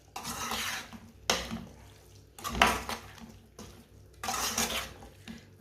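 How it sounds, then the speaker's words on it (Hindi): Vegetables being stirred with chopped coriander and garam masala in a cooking pan for a mixed sabzi, giving repeated close scraping and clattering bursts of a spoon against the pan, about five strokes separated by brief pauses. "अच्छी तरह मैंने इसे मिक्स कर लिया है।"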